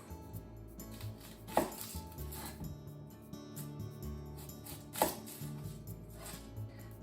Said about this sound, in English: Cut the top and the bottom off.